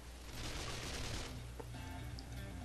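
Rapid gunfire shooting robots in the video game Shoot Many Robots, a dense sustained burst of automatic shots that thins out near the end, loud against a constant game background.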